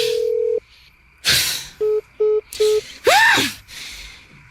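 A cellphone being dialed gives a few short, evenly spaced keypad tones between other loud clicks and a sweeping electronic sound, loud and close, with no talking.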